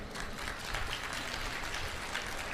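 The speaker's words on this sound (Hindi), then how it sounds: "तालियां बजाओ इनके लिए" Crowd applause at a Hindi religious discourse gathering, a steady dense wash of many hands clapping at once, fairly loud and continuous with no talk over it.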